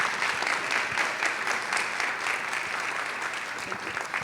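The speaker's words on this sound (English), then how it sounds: "let's give her a round of applause as she approaches the podium" Steady applause from an audience at a graduation ceremony, a sustained wash of clapping hands at moderate distance that holds evenly throughout without speech over it.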